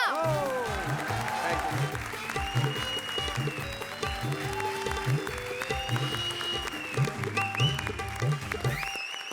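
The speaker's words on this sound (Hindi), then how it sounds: "लीथल कॉम्बिनेशन कपिल और कविता के लिए जोरदार तालियां" A studio audience at a television comedy show applauds under loud, rhythmic stage music with a steady thumping beat, the clapping blending into the music throughout.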